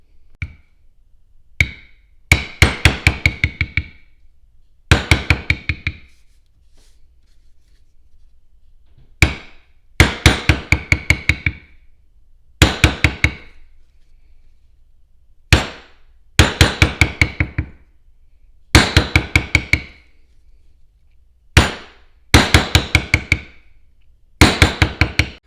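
Bursts of rapid metallic tapping from a number 1 thumbprint stamping tool struck into leather petal creases, each run a quick rhythmic flurry of close, sharp hits separated by short pauses, with no talking.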